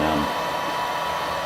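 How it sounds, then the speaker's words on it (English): Heat gun blowing on a Mazda RX3 headliner to soften its adhesive, a steady close airy roar that holds for the whole short stretch with a brief low hum at the start. "This adhesive will come off without a heat gun, but I gotta say, it makes it a lot easier."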